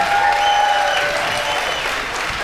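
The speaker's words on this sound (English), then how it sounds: "If you want to applaud for anything, that is something to applaud for." Steady applause from the audience at an opening plenary session of a summit, dense and sustained across the whole stretch without letup.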